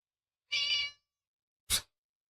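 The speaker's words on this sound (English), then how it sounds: "That's a cat, Randy." A cat meows once in a clear, drawn-out call, followed by a brief second sound, close and alone with no talk.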